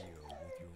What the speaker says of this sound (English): Sorry about the dog whining in the background.